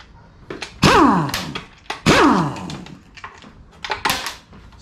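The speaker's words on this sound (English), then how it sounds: "When I pull out the 1/2-inch air gun to take off pan bolts" A 1/2-inch air impact gun removes pan bolts from a 4L80E transmission. Two sharp pneumatic bursts each wind down in a falling whine, mixed with clunks and knocks from handling the tool and parts close by.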